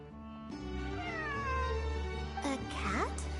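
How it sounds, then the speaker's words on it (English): A cat in Genshin Impact meows in a long, drawn-out, wavering cry that rises and falls, clear and close, with a second bending call near the end. "It really is a cat."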